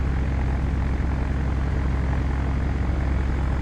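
DC-3 propeller plane taxiing in Flight Simulator X, a steady loud droning engine rumble with continuous low throb, constant throughout and no voices.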